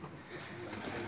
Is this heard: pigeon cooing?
yes